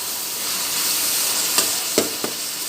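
Beef keema mince frying in a pan with onions, giving a steady, loud broadband sizzle throughout, with a few brief sharper spits or stirring scrapes near the end.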